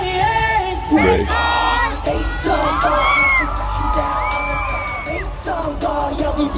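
A concert crowd at a stage show in Kaohsiung screams and cheers loudly and continuously, with high-pitched shrieks and whoops rising over a dense roar of voices and music.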